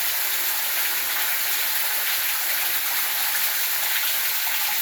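Heavy rain pouring down outdoors, a loud, steady, unbroken hiss of dense drops striking surfaces with no voices over it.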